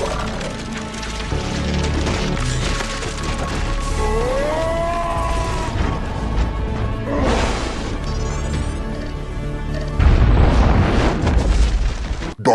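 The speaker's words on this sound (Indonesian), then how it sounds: "Yuli berhasil meledakkan ruangan tadi" Film soundtrack of an explosion blowing up a room in Blue Beetle, a dense, loud wash of rumbling impacts and dramatic music with a rising whoosh, swelling into a heavier crashing burst near the end.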